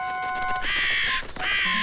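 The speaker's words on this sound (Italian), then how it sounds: "Oh! Non è un insetto! È un uccello!" Cartoon crow cawing loudly: two harsh, drawn-out caws close up, separated by a short gap, with a brief tonal chirp before them and no talking.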